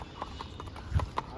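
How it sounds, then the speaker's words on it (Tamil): Horse hooves clip-clop in a steady rhythm during a horse ride in Ooty, with a sharper, louder thud near the end, heard at moderate distance over faint outdoor background. "குதிரை சவாரி பாருங்க, பயங்கரமாக இருக்குது."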